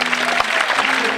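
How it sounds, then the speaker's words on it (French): Short burst of stage-show audience applause at a French singer's 60-years-on-stage concert, dense steady clapping throughout with a faint voice underneath. "Ah, les applaudis, très fort."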